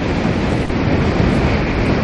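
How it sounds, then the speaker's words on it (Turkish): Strong wind gusting around a tall radio mast on Çamlıca hill, heard as a loud, continuous broadband roar buffeting the microphone, with no one talking. "Ama şu anda acayip rüzgar var."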